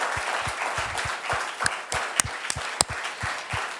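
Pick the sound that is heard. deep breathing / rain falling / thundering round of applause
thundering round of applause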